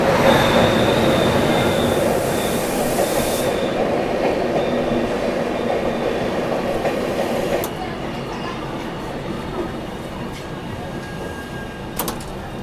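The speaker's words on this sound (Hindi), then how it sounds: "ट्रेन अपनी पहुंच चुकी है सूरत रेलवे स्टेशन पर" The Puri–Okha Dwarka Superfast Express passenger train rolls loudly into Surat railway station, wheels squealing and rumbling as it slows, with a hiss and clunk near the end and people talking faintly.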